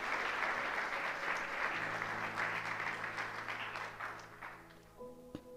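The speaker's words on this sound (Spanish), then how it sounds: "Levántale un aplauso al Señor" A church congregation applauds together in a sustained, dense burst of clapping at moderate distance, fading slightly toward the end as a low instrumental tone lingers beneath.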